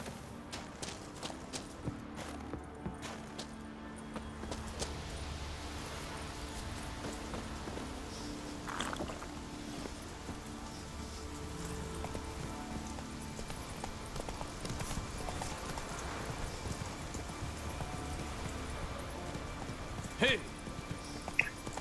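Horse hooves clip-clopping as a rider travels in the video game The Witcher 3: Wild Hunt, a faint steady trot beneath a constant ambient bed, with no speech.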